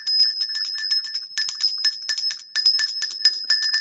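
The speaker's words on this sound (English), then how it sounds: "if y'all want a pitiful little bell" A small high-pitched bell rings in quick repeated bursts, clear and close, with brief pauses between clusters of rings.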